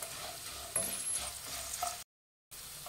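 Green peas, soaked and partly boiled, crackle and sizzle in oil as they are stirred, a close, even frying hiss that drops out briefly before resuming.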